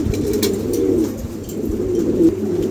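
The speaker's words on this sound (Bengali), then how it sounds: "অনেক বড়ো সাইজ কবুতর" A pigeon coos nearby in low, soft, rolling calls, repeated a couple of times with no other sounds around.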